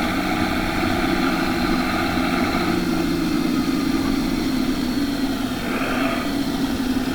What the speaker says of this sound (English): It's almost crashing my chopper there.